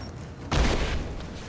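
Gunfire in Rise of the Tomb Raider starts as a low rumble, then a loud burst of shots hits abruptly and keeps rolling as a dense, close volley.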